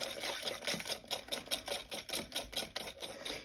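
A whisk beats gluten-free chocolate brownie batter in a bowl, making quick, evenly spaced scraping taps that repeat steadily at close range, fairly soft and with no voices.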